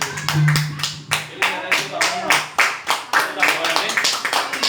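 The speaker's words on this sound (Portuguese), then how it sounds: "Uma palma para Jesus. Quem pode aplaudir?" A church congregation claps together in praise of Jesus, loud, roughly rhythmic claps about three per second, with a voice sounding briefly beneath them.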